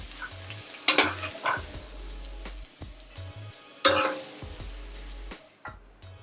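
Onions sizzle in a hot pan while a spoon scrapes and stirs them in a few bursts, with a soft, steady frying hiss between the strokes.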